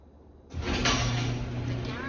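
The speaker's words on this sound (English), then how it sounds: "Open the garage door opener." A smart garage door opener starts up abruptly and then runs with a steady mechanical rumble and whir as the door rises.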